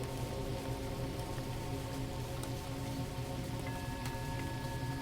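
Steady rain falling as a soft, even hiss, quiet and unbroken throughout, with a faint low hum beneath it.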